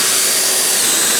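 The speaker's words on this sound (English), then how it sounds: "I've got this little brush attachment in my drill, and I'm going to use that just to work it in" A steady, loud whirring hiss of a drill-driven brush scrubbing cleaner into a filthy police interceptor's fabric seat, constant throughout without pauses.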